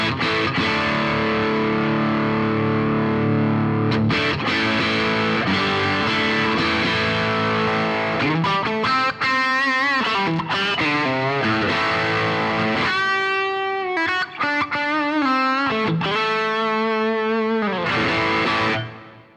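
An electric guitar runs through a Boss Angry Driver pedal with the gain turned up, giving loud distorted chords and sustained single-note lines that ring out for nearly twenty seconds before fading at the end.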